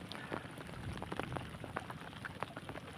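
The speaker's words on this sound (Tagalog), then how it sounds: "Parang lalakas ang ulan mga idol." Rain falls steadily outdoors with scattered drop patter on surfaces, fairly close and continuous throughout.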